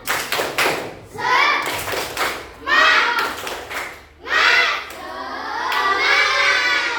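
Schoolchildren in a fourth-grade classroom clap a rhythmic spirit clap in bursts, each round of patterned hand claps mixed with their shouted chanting, separated by brief pauses.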